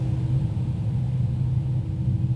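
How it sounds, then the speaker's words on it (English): Steady low engine rumble of a Toliss A321 airliner's two jet engines running in the X-Plane 11 flight simulator, heard from the rear of the cabin as a constant drone with no talk. "Alright, we should have 2 good engines now."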